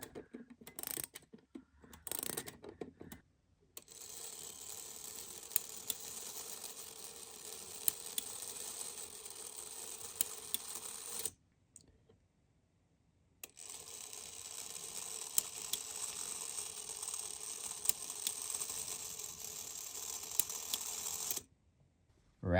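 Ratchet wheel and click inside a Seth Thomas ship's bell clock being tested: steady, rapid mechanical clicking in long bursts, broken by two short silent pauses, close and fairly quiet.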